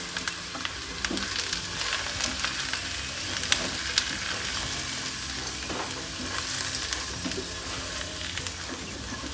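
Okra sautéing in a hot pan, a steady bright sizzle with scattered crackles and occasional scraping stirs, continuous and fairly close with no talking.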